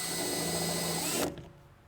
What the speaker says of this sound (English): put our door pull bezel in there and drill the holes out.